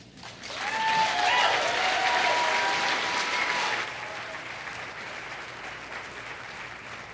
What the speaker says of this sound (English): let's give another applause